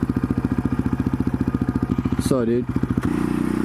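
A 2014 Yamaha Raptor 700 quad's engine thumps in a rapid, loud, pulsing rhythm close by, briefly changing pitch before settling, while someone speaks a few words over it.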